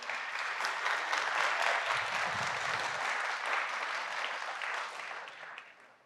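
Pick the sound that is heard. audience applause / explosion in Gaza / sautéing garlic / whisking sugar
audience applause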